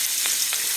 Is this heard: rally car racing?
no